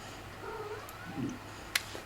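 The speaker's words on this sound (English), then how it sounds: "This is my cat" A pet cat named Chew Toy gives a soft, short meow, faint and close in a quiet room, followed by a brief sharp click.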